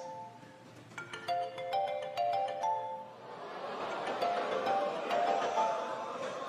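Mobile phone ringtone sounding in a comedy show audience, a melodic chiming tune of repeated tones rising over crowd murmur, then fading into the room noise.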